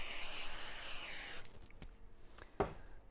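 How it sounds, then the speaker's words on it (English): A spray bottle mists a fabric bag panel at a sewing table with a sewing machine nearby, a single close, steady hiss lasting about a second and a half, followed by a few soft knocks and taps. "So I'll use a bit of spray"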